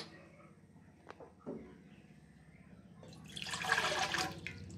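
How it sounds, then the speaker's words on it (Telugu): About 200 ml of water splashes and pours steadily into a pan for a couple of seconds, a bright rushing hiss rising near the end after a few small clinks. "200 ml వాటర్ పోసాను"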